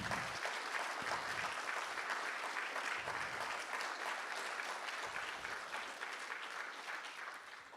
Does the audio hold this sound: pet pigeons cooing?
no